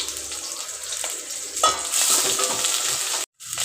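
Plenty of garlic sizzles in hot tempering oil, a steady crackling hiss with occasional stirring scrapes, close by, briefly cut off near the end.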